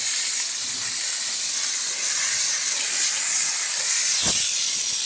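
A Chief 100 PSI steamer cleaning road salt off a car gives a loud, continuous, close-up hiss of high-pressure steam, with a brief sharper pulse near the end.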